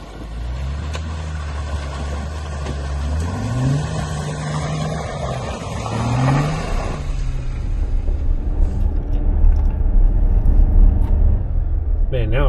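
An off-road vehicle pushes through a waterlogged obstacle on the MacKenzie River Trail. A rumbling engine climbs and drops in pitch as it revs and changes gear, with splashy, broadband noise and a louder finish.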